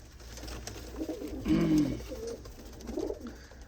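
Pigeons at a loft of champion birds give soft, low coos, with one clearer throaty coo in the middle and a fainter one near the end, over a steady background hum.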